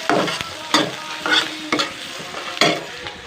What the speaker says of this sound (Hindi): अब डालेंगे प्याज। चलिए इसे भून लेते हैं अच्छे से।